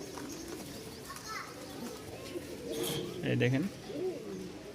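Tumbler pigeons, a red and a black pair, coo softly in short rounded phrases close by, with someone talking over and between the calls.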